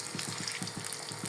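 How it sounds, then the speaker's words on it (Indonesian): Potato pieces fry in oil in a pan over a moderate flame, giving a soft, steady sizzle broken by quick rhythmic stirring or scraping strokes, with no talking. "Ini proses penggorengannya bolo. Untuk kentangnya."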